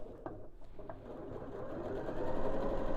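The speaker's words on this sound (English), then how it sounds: "I'm just going to sew just underneath the seam" A home sewing machine stitches just beneath a fabric seam with a lengthened stitch, its steady mechanical whir running continuously and swelling slightly louder toward the end.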